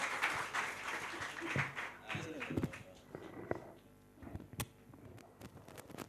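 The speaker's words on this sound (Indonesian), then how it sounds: "Please welcome, tepuk tangan yang meriah untuk Mas Mas Bondan." Scattered clapping and cheering from an audience, with a voice over a loudspeaker and some crowd noise, fading toward the end.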